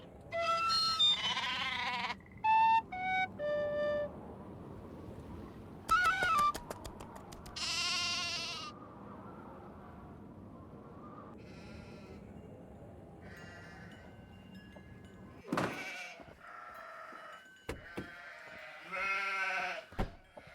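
Sheep bleating in the Nancy Drew: Castle Malloy video game, in a farm setting: several wavering bleats come one after another and then recur, loud and close, over a steady low ambient hum, with no talk.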